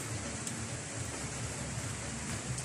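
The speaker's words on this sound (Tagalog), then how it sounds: "Maulan po yung araw po natin" Steady rain from Typhoon Kristine falls outdoors near a vegetable garden with eggplants, a constant soft hiss of drops on surfaces with no other sound.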